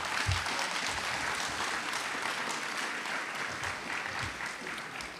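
Audience applause at a county government State of the County event, a steady, moderately distant wash of many hands clapping that slowly tapers toward the end.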